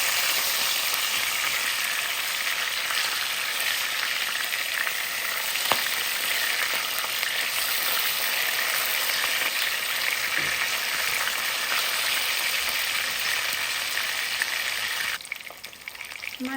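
Fish sizzling and frying in oil in a pan, a steady close crackle running throughout with an occasional stir or clink, quieting slightly near the end.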